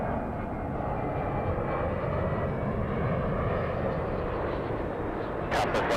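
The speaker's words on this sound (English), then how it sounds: "RNAV Del Rey, runway 24 left, cleared for takeoff" Delta airliner taking off from runway 24 left at Los Angeles International Airport, a dense, steady jet engine roar at moderate distance, constant throughout with a faint high whine near the end.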